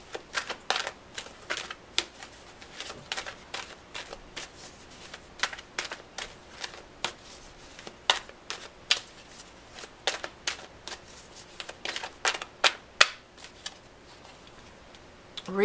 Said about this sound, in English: So, I'm going to pull an oracle card for you, Aquarius, for this week.